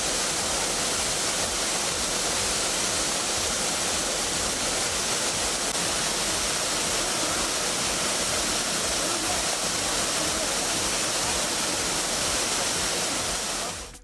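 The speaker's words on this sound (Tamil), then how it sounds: "இதனால் கோகர்பம் அணை முழுமையாக நிரம்பியதால் ஒரு கதவணை திறக்கப்பட்டு தண்ணீர் வெளியேற்றப்பட்டது." Water roars through an opened gate of a full dam, a dense, constant rushing wash that stays loud and unbroken throughout, with no voices.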